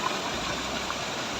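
A stream swollen by overnight rain rushes steadily, a loud, dense, even roar of flowing water with no pauses.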